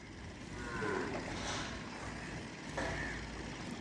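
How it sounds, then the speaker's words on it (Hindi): A pink-nosed breeder bull on a farm lets out a loud, close moo, then a second shorter low call shortly after, over steady outdoor background noise. "ये बुल उनके लिए हमने मंगवाया है"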